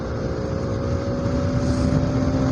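Traffic on the Mumbai-Agra highway flyover, heard from a modified RS200 motorcycle among trucks, makes a steady, loud engine and road drone with rushing wind throughout.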